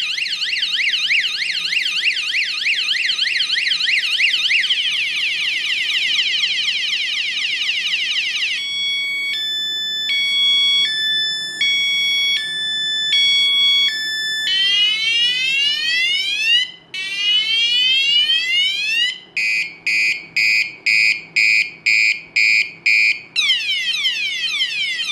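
A rechargeable bicycle horn steps through its electronic siren modes one after another: rising and falling wails, rapid warbling beeps, swooping chirps and stuttering pulses, all loud, close and shrill with no talking.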